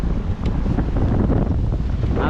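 Strong gusts buffet the microphone on a fishing boat out on the rough West Philippine Sea, a dense, loud roar of wind and churning waves with no break, without any voices.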